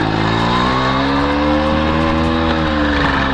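A 1985 Tomos two-gear moped pulls away, its small engine buzzing loud and close. The note rises steadily in pitch, then eases slightly as it keeps droning.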